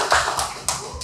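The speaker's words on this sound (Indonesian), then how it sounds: "Mungkin kita kasih tepuk tangan dulu." Hand clapping from a small podcast group in a studio, a short burst of a few uneven claps that fades quickly.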